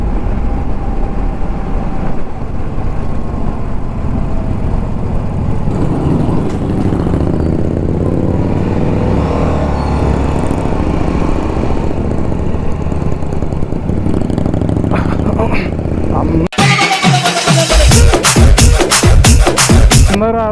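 A superbike worth about 20 lakh rumbles loudly on a highway ride from Tirupati toward Chittoor, its engine droning steadily under wind, then rising into a sharp, rapid rev near the end.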